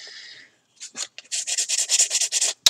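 Sandpaper rubbing back and forth on a surface close up, a quick series of rhythmic scratchy strokes after a short pause.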